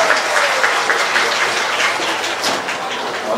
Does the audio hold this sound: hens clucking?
no